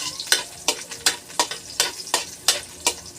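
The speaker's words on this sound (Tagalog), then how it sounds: "Igisa na guys ang bawang." Garlic sautéing in hot oil in a pan for adobo sizzles steadily while a spatula scrapes and stirs in regular strokes, about three per second, close and clear with no talking.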